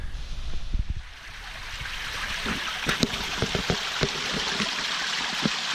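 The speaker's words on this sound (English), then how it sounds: "Nice little waterfall along the beach." Small waterfall pouring onto a rocky Bay of Fundy beach, a steady splashing rush of water with scattered louder drips and splashes, close and continuous with no voices.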